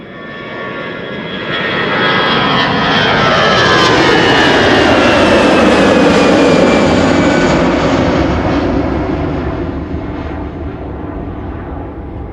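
An Embraer 175 jet airliner at Schiphol Airport roars past on its own, its engine noise swelling from a moderate rumble to a loud, broad peak midway, then easing slightly while staying strong to the end.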